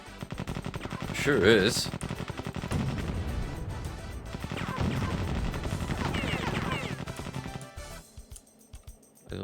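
Rapid automatic turret fire in the first-person shooter Rise of the Triad, loud bursts of chattering gunshots that keep coming for several seconds before cutting off, with someone briefly speaking over them.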